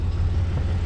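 Low, steady rumble of a Cummins inline-six diesel truck towing a trailer, a constant close engine and road drone with no voices over it.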